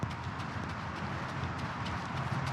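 Horses walking across an arena, a scattered clip-clop of hooves amid a busy, noisy background, fairly close and steady throughout.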